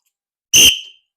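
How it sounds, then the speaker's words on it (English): A single sharp, loud whistle blast, short and shrill, alone against silence and tailing off quickly. "when you hear that whistle, remember to pay serious attention"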